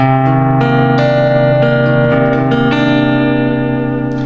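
A jazz minor 9 chord on guitar, plucked as several separate attacks that ring together into a sustained, loud, close voicing with effects and reverb. No voices.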